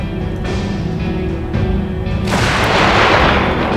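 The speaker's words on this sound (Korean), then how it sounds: "총소리 나면" Loud bursts of gunfire in the video game This War of Mine, with a sharp boom around the middle and a dense rattle of shots toward the end.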